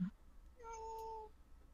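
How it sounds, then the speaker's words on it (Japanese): A cat gives one clear, drawn-out meow indoors, close and moderately loud, standing alone after a brief soft sound with no talking over it. "ほら、猫も心配してるじゃん。"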